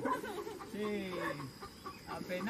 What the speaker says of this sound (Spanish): Con la gallina ahí de fondo musical.